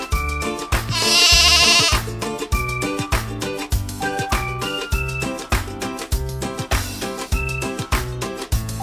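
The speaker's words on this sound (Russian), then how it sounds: "Коза." A goat gives one loud, wavering bleat near the start, set over bouncy children's music with a steady beat that carries on alone afterward.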